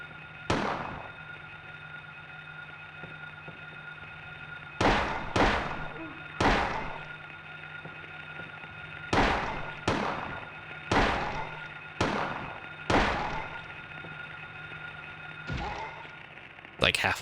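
Handgun shots in the Silent Hill video game, about ten sharp reports spread irregularly over the stretch, several in quick pairs and runs, each loud and abrupt with a short decay over a steady low hum.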